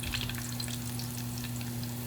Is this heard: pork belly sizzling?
yes